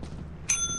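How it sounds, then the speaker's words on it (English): A bell in the Lethal Company video game rings out once, a bright metallic strike that hangs with a sustained ringing tone over low rumbling background noise. "Stop ringing the bell!"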